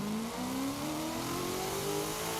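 A Mosler MT900 GT3 race car in Forza Horizon 5 revs hard, its engine note climbing steadily in one continuous, loud pull.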